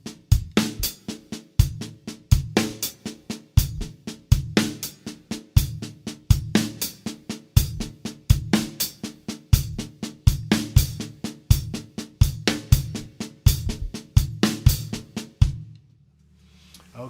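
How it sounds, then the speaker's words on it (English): A funk paradiddle variation is played on the hi-hat, crisp sharp strokes with steady accented pulses repeating for about fifteen seconds before a brief ringing fade, close and clean with no talking. "I'll play it on the hi-hat so it's nice and clean and you can hear it."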